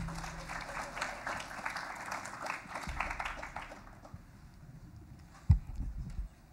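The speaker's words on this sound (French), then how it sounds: "Un applaudissement pour M." Applause from a conference audience welcoming speaker Nicolas Zorn, a soft, dense patter of clapping that fades out midway, followed by a quiet room and a single sharp thump near the end.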